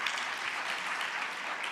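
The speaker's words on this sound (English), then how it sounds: "big round of applause, please" An audience at the EIT Summit 2024 claps in a steady, even wash of applause that holds at moderate loudness throughout, with no voices over it.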